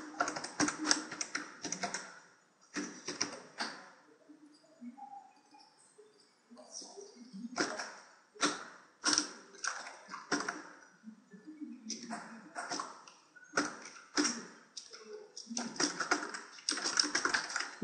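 Bursts of computer keyboard typing come as spreadsheet contact data is entered, quick clustered keystrokes separated by pauses, with someone speaking between the bursts.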